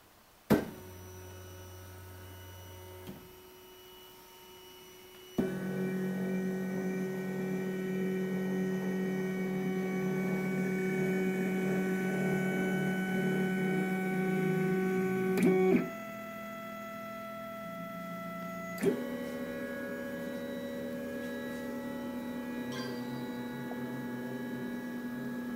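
A steady electrical hum from a MakerBot Replicator 2X 3D printer heating up, shifting in pitch and level a few times with faint clicks, no voices.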